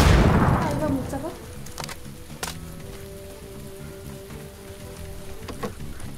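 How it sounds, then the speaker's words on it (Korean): Steady patter of video game rain with a louder burst at the start, occasional sharp gunshot-like bangs and a faint tonal hum underneath. "빗소리가 너무 커."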